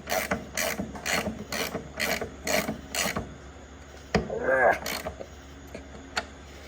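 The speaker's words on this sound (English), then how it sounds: "We'll just put the one size all crescent wrench on it." A wrench tightens a bolt on the front end of a Baja Bug build, giving a quick run of sharp, evenly spaced metallic clicks up close, then a few scattered clanks.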